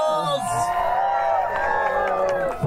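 Wedding guests cheer, whoop and clap for newlyweds Mr. and Mrs. Patel at a resort reception. A close, dense crowd roar holds steady for a few seconds, with voices shouting over it.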